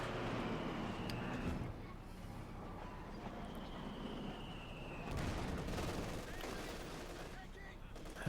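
MG42 machine gun fire chatters amid a Company of Heroes 2 battle, with distant explosions and overlapping gunfire at moderate loudness and a denser burst near the end.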